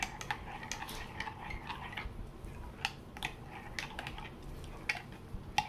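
Peppermint melt and pour soap base being stirred, with light clinks and taps of a utensil against a container coming in quick irregular bursts, close by and fairly quiet over a low background rumble.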